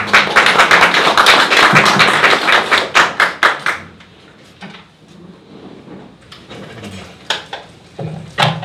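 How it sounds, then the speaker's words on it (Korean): An audience at a civil disobedience campaign launch ceremony claps for a speaker, a dense burst of applause that thins into scattered individual claps with no voices over it. "자, 박수로 환영해 주십니다."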